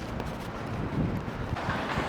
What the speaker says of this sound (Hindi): सही हवा चल रही है